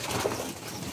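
Domestic racing pigeons cooing in a loft, a soft low coo against steady broadband background noise, with possible faint wing flutter, lasting under a second.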